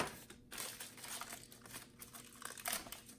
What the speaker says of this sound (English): Let's go ahead and get this wrapping off on top. Rip it off.